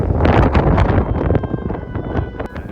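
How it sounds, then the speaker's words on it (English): Strong gusty wind blowing across an outdoor rocket launch site, about 20 mph with stronger gusts, buffeting the microphone as a loud, rough roar that surges and eases, with no voices. "today it was blowing at about 20 miles per hour constant, with gusts up to 35"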